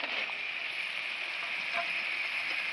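Fried pointed gourd pieces go into hot spiced oil in a pan, giving a steady, close, even sizzle that holds without a break for the whole stretch, with no talking.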